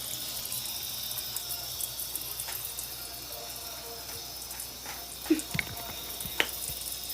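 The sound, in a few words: water running from a tap, heating up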